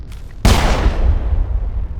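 A single loud gunshot fires in the Mass Effect video game, a sharp blast with a rumbling tail that fades slowly over the next second and a half, after a quiet opening.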